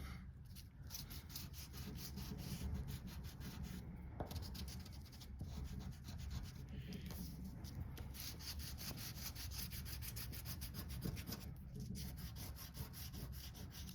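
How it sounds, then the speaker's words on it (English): Chalk is rubbed steadily back and forth over a sashiko stitch design on fabric, giving a soft, close, rhythmic scratchy rubbing with brief pauses and no talking. "you'll just kind of rub back and forth until it looks like the holes are covered up"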